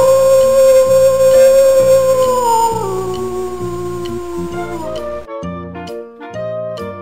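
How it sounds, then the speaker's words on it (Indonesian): A wolf lets out a long, drawn-out howl that glides downward in pitch over the first few seconds, set against steady background music that continues after the howl fades. "Wolf."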